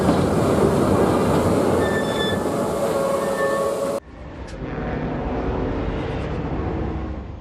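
A freight train with tank wagons rolls slowly at about 15 km/h over a level crossing in the village of Grandpuits, France, a loud continuous rumble with faint wheel squeals, then an abrupt cut to a quieter, steadier rail drone.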